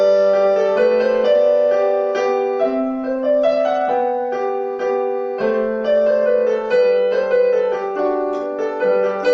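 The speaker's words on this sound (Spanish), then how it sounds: "Oigan el sonido de este piano." Piano playing a steady, bright melody with sustained chords and clear harmonic tones, loud and close, with no voices throughout.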